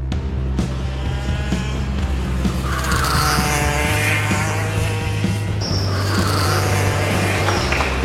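A go-kart engine drones loudly up close, holding a steady buzzing hum with rising and falling revs and a squealing tire edge as it rolls in.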